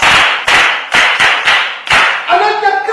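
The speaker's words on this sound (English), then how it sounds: "Clap for her! Clap for her!" A group of people clap for a student in a classroom, giving several loud, sharp bursts of applause in an uneven rhythm before a voice starts talking.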